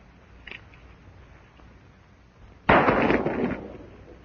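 A single loud gunshot from an old gun in a 1939 musical western film, a sharp close blast with a ringing tail after a quiet stretch.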